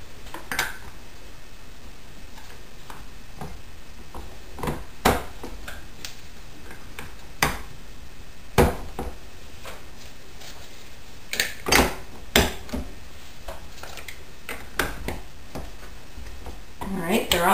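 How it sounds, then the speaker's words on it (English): Little plastic lids clicked onto glass yogurt jars one by one, a series of sharp light taps and snaps spread irregularly across a quiet kitchen background. "They come with these little plastic lids, so I'll carefully put those on."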